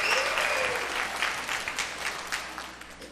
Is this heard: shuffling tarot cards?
no